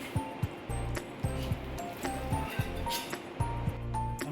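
Mango halwa is turned out of its tray, bringing a series of close metallic taps and clinks in an uneven rhythm, with soft squishy handling noises between them.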